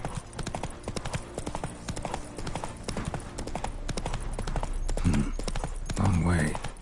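Horse hooves clip-clop steadily at a gallop in The Witcher 3, a dense rhythmic drumming that runs the whole way through, with a snort or whinny rising near the end over game sound.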